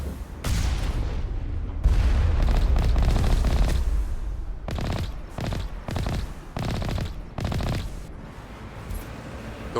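Missiles and weapons firing in a video game, a long run of loud, rapid bursts and booms that break into separate volleys with short gaps between them.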